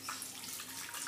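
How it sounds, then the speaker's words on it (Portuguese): Hands being washed under a running kitchen tap during household chores, a steady hiss of flowing water splashing into a sink, close and continuous for about a second with no talking. "Lavar as mãos primeiro, né?"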